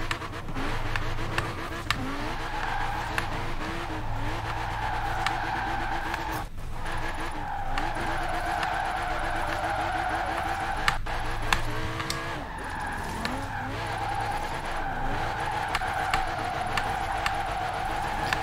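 BMW M6 Drift car drifting in Forza Horizon 4, its engine droning and revving steadily throughout with tire squeal layered over it, loud and close, with no voices.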